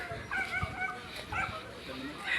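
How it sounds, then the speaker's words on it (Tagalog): A dog gives a few small yips and whimpering barks, fairly close, mixed with background voices and outdoor noise near the boats in Navotas City. "Yan, may aso."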